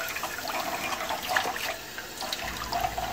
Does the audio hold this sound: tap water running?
yes